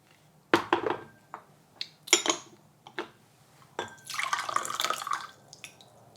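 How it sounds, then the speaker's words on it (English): Tea leaves rinsed with water in brewing ware: scattered drips and light clinks of pots and cups, then a brief stream of pouring water swelling and fading, close and fairly quiet, with no speech. "All right, let's give it a rinse."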